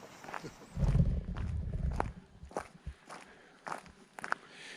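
Slow footsteps crunching on a dirt forest track outdoors in Lerderderg State Forest, with a heavier rustling tread near the start and quieter, spaced steps after.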